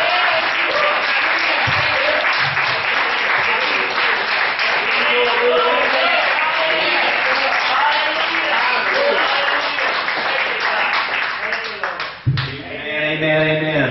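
A church congregation claps and applauds loudly and continuously, a dense sustained wash of hands that fades near the end as a voice takes over.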